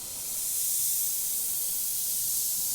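An airbrush sprays paint with a continuous, steady airy hiss that holds evenly throughout, close and alone.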